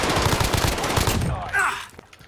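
Rapid automatic gunfire crackles loudly in a Call of Duty Warzone Rebirth match, a dense burst of shots lasting over a second before tapering off into quieter game sounds.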